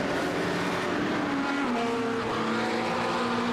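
Race car engine in a sim racing game at a 24-hour endurance race at Zolder, a loud steady whine whose pitch shifts through gear changes, with faint tire noise and other cars passing.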